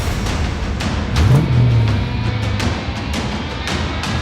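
A 1970 Dodge Charger R/T engine revs for a burnout: a low, steady roar swells, holds for over a second and then settles back. Sharp clicks recur throughout, and no one speaks.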